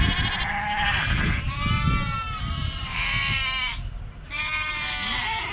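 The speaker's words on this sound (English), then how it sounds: "all these are sheep." Several sheep returning from grazing in Maasai Land, Kenya, bleat loudly and repeatedly at close range, their wavering cries overlapping one another with almost no pause in between.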